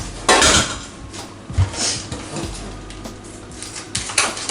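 A colander is set down in a kitchen sink with a loud close metallic clatter, followed by lighter knocks and rattles.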